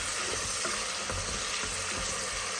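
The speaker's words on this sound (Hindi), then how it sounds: "अब हम इसमें डालने वाले हैं टमाटर इस तरीके से, और इसको हम इस तरीके से जल्दी जल्दी भुला लेंगे" Chopped tomatoes frying in a hot pan for an egg and potato ghotala, a dense steady sizzle and crackle with occasional stirring scrapes, close and continuous with no talk.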